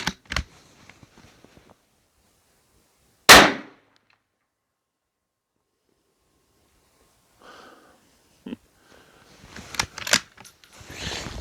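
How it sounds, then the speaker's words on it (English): A single sharp, loud crack from a rifle firing a handloaded round during a reloading precision test, followed by long quiet and then faint handling clicks and rustling. "So we're going to go ahead and fire round number 5."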